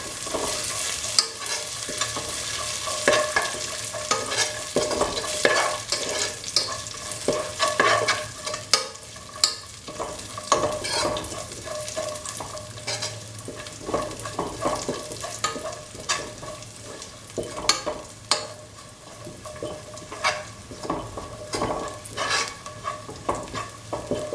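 Semolina is sautéed and stirred in a pan for sweet rava kheer, with cashew nuts added: a continuous soft frying sizzle under frequent close scraping strokes of the spoon, with no talking.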